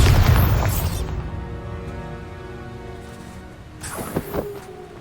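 Spell explosion from the Bombarda charm in the video game Hogwarts Legacy: a loud boom at the start that decays into a long rumbling tail, with a couple of smaller bursts near the end.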